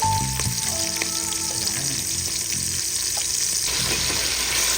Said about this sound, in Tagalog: Ayan, binigisa ko po siya sa patis.